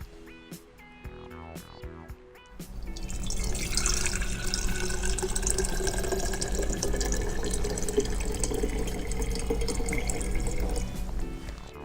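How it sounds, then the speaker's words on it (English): Hot water poured into a glass jar, a steady loud splashing and filling stream that starts after about two seconds of quieter sound and runs on continuously, close to the microphone. "we're going to carefully pour about 2 inches of hot water into this glass jar"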